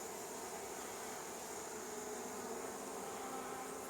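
Honey bees from a newly hived 2019 swarm buzz around an active hive, a steady dense drone with no pauses that stays close and fairly faint.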